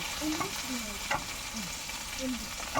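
Masala of black mustard paste, turmeric and salt frying in a pan while being stirred, a steady close sizzle broken by repeated scraping strokes of a spatula and occasional sharp pops.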